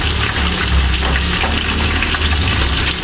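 Water pours steadily into coconut milk in a continuous, loud rushing splash that stays even throughout, with no voices over it.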